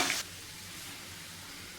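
Soybean chunks deep-frying in oil until crisp, a steady close sizzle that starts with a brief louder burst and then settles into an even hiss, with no talk.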